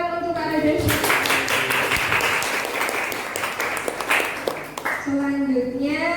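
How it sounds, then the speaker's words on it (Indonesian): Steady, fairly loud audience applause for a speaker at a mental-health awareness session, a dense wash of many hands lasting several seconds between stretches of a presenter's amplified voice. "Beri tepuk tangan untuk Kak Reda."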